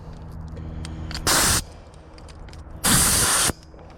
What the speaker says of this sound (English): Basically, this is an air compressor, but it's not.